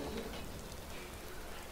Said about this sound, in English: as you can see, it's raining again.